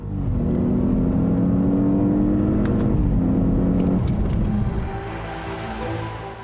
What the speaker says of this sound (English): the 8-cylinder gasoline engine produces 382 kilowatts and a whopping maximum torque of 650 Newton meters